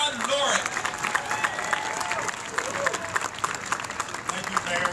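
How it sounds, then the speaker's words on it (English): Applause from an evening crowd at an outdoor river festival in Oklahoma City, steady and dense clapping filling the whole stretch, with a few faint voices and cheers mixed in. "Please give a warm round of applause"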